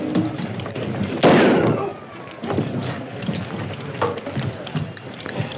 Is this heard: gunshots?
yes